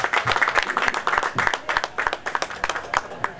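Crowd applause at a gathering, a burst of many hands clapping close by with a dense, uneven rhythm lasting a few seconds, without speech over it.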